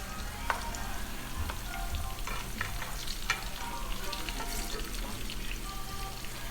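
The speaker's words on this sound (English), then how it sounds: "So that is a second batch that I'm frying" Ripe plantains frying in hot oil, a steady dense sizzle with scattered crackles and pops throughout, close and continuous with no talk.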